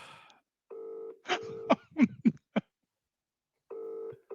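A landline call to someone's wife produces two bursts of steady electronic phone tone separated by a short stretch of clicks and small breathy noises, close and fairly quiet.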